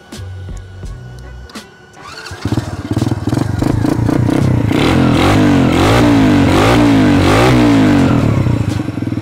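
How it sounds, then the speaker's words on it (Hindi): A new 150cc quad bike engine cranks, starts and then revs, building into a loud, steady, close engine drone with rising and falling revving that runs to the end. "इसको स्टार्ट करता हूँ, इसकी साउंड आपको सुनवा देता हूँ।"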